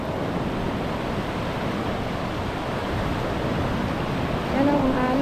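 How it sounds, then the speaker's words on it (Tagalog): Ocean waves rolling and surging around a small boat at sea, a steady broadband wash with a rising swell near the end, while a voice speaks over it. "Yan ang alon, mga kapain."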